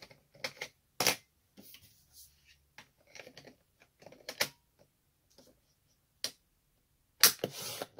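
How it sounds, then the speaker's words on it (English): A blade paper trimmer cuts cardstock sheets, giving sharp, isolated slicing and clacking sounds at irregular intervals with quiet gaps between them. "switch out my blade, back to cutting"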